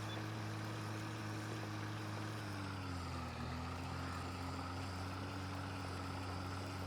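Tractor engine in a farming game while plowing, a steady low droning hum that dips slightly in pitch midway, constant and fairly quiet with no speech.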